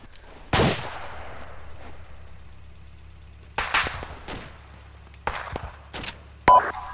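Gunfire in a tactical military video game set around a minaret: sparse, sharp single shots and short bursts with echoing tails, separated by quiet gaps over a low steady hum.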